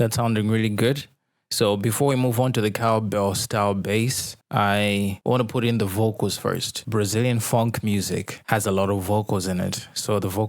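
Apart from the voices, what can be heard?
No everyday noises stand out.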